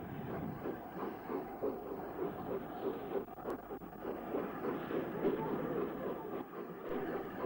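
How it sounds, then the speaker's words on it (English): A B1 class steam locomotive departs Retford with the Sheffield portion in the 1960s, a steady rumbling chug and rail clatter rolling on at moderate distance. "Retford's B1 class number 61127 departs with the Sheffield portion"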